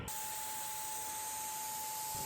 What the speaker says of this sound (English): I just went in to get more paint in the sprayer, and this one's going on much faster